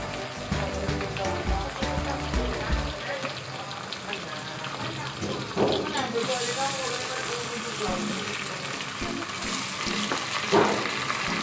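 Shrimp frying in a pan with garlic for a Cebuano linarang and shrimp dish: a steady close sizzle and crackle with a few utensil scrapes, running under a speaking voice.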